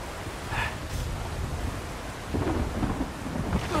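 Rain and rolling thunder in Uncharted 4, a steady downpour hiss with low rumbles swelling through, the storm growing louder toward the end.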